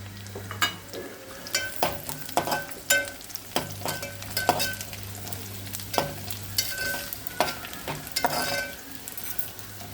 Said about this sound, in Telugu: రొయ్యలు ఒక టూ మినిట్స్ వేయించుకుంటే నీ వాసన రావండి